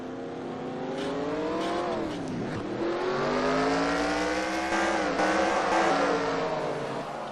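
NASCAR race cars in the NR2003 video game scream past in a pack, with engine pitches rising and falling as they accelerate and pass, steady and moderately loud throughout.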